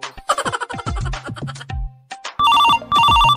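A telephone rings in a room during a Bangla comedy drama scene, its electronic ringtone sounding in two loud sustained bursts at the end after some earlier scattered tones and clatter.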